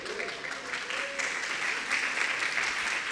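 Sustained applause from a church congregation, dense and steady throughout, with a faint voice briefly rising above the clapping near the start.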